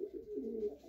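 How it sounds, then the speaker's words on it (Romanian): A prize-winning long-distance racing pigeon coos steadily, a low, rolling, close-up call that fills the whole moment with no other sounds. "un super porumbel de o reală valoare"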